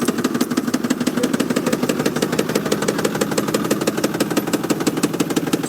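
A 2024 Ford Power Stroke diesel pickup truck with 10,000 miles idles close by with a steady, rapid knocking clatter that never changes pace.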